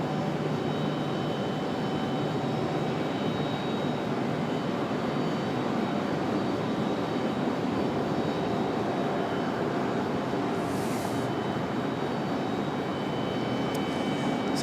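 A jet airliner arriving at Raleigh-Durham International Airport after a flight from Boston gives a steady, loud broadband engine roar that holds for the whole stretch without letup, with no speech over it.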